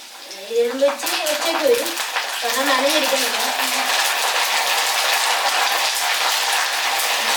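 Curry leaves dropped into a hot pan for a raw pineapple dish crackle and sizzle steadily, starting with a few clinks of metal against the pan before settling into a loud, continuous spitting hiss up close.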